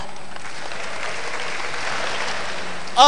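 Crowd at a stand-up comedy concert in Banda Aceh applauding in a sustained, dense wash of clapping, steady and even for several seconds before a sharper sound cuts in at the very end.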